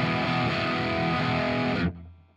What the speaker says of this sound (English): let's turn on the Royal Tone